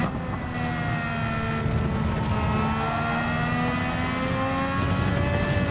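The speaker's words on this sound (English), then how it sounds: "you can hear the grunt and the engine, but there's like this high-pitched electronic ring sound in the back of it when it gets into high revs" A 1965 race car engine held at high revs in a racing game at Monza: a continuous loud engine drone with a steady high-pitched whining ring layered on top, sustained without a break.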